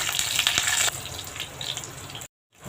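Green chillies sautéing in hot oil in a pan make a bright, hissing sizzle that is loudest at first and then eases off before a sudden brief silence. No one speaks.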